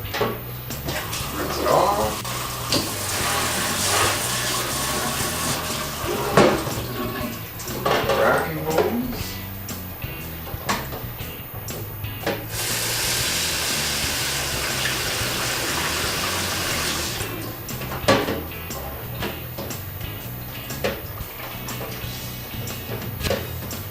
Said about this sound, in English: Grab our bottler, rinse it off.